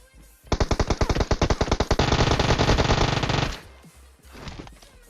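Rapid automatic fire from an M4 rifle in a video game, a loud burst of about fifteen sharp shots that runs into a dense sustained volley for over a second, then stops, with faint game ambience after.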